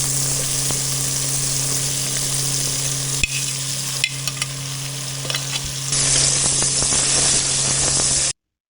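Papaya and chicken frying together in a pan for Chinese mixed masala vegetables, a steady loud sizzle with stirring scrapes, jumping brighter and hissier near the end, no voices.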